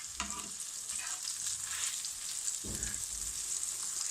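Chicken cutlet kebabs in a hot pan sizzle with a continuous hiss of frying oil, and soft clanks and scrapes come through as they are flipped.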